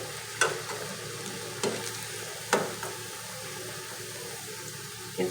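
Medu vada, urad dal fritters, frying in oil until golden on both sides: a soft, even bubbling sizzle broken by a few sharp clinks and pokes from a utensil.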